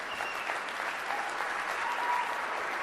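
A steady wash of applause fills a NASCAR awards banquet hall, a full room clapping continuously at moderate volume with no breaks.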